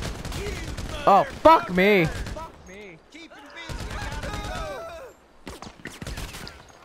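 Enemy gunfire in Grand Theft Auto V: a few short bursts of shots mixed with loud, excited shouting and talk, ending in scattered later shots.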